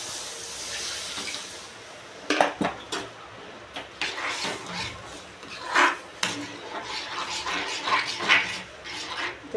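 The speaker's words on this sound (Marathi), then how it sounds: "आता हे आपण बॅटर पुन्हा टाकणार आहे." Gram flour batter for pithla poured into a pan and stirred, a series of wet splashy bursts and clinks at close range over a soft background hiss, with no talk.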